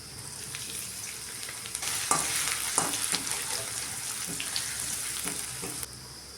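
Chopped garlic, ginger and chilli sizzle in hot oil with a continuous close hiss, dotted with brief clicks and scrapes as the pan is stirred, strongest in the middle stretch before easing.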